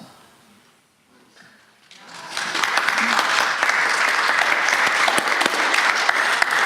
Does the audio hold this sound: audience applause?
yes